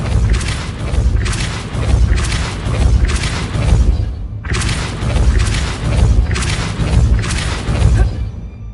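Depulso spell blasts in the video game Hogwarts Legacy, loud booming impacts with whooshing bursts, repeated in a steady run of about seven hits in two groups separated by a brief pause.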